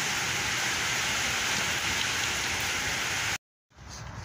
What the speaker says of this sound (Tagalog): Yan, ulan na siya guys.